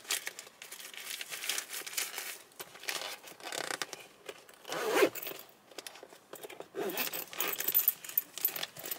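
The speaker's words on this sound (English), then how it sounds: "is this thing gonna zipper up?" A zipper on a packed bag is pulled in several scratchy rasping runs, with crinkling and jostling of the contents between strokes, close and fairly quiet.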